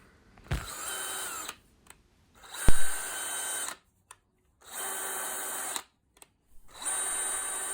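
A DeWalt DCD996 cordless drill whirs in three short bursts, each starting with a click and spinning steadily before stopping, close by with no talking.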